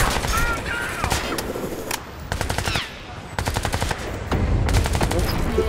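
Rapid automatic gunfire in Crysis 3, three or four sustained bursts of evenly spaced shots, loud and close, separated by brief pauses, with battle noise underneath.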